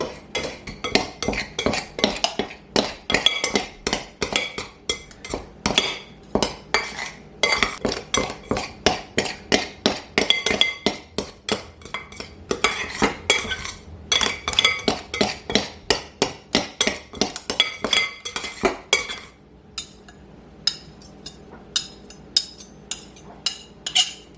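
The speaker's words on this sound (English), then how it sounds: "So to cut the butter into the flour, I'll start off with 2 knives, and you make cutting motions like that." Two knives cut cold butter into flour in a mixing bowl for 1901-style baking powder biscuits, making a fast, steady run of close, sharp metallic clicks and scrapes that grows sparser near the end, with no talk.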